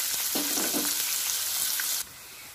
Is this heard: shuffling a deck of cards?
no